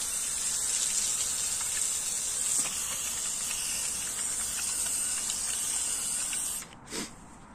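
Water sprays steadily through an RAC all-in-one car washing brush with a soap dispenser, a continuous close hiss and gush that briefly drops and surges near the end.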